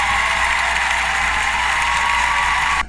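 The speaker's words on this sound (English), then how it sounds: "Round of applause for our guy Josh Hart" Applause for Knicks player Josh Hart rises as a dense, loud, continuous wash of clapping that holds evenly for about three seconds before cutting off abruptly.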